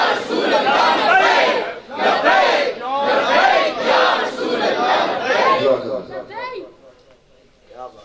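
A crowd at a Mehfil-e-Milad religious gathering chants slogans in unison, loud, rhythmic bursts of many voices repeating together for several seconds before fading toward the end.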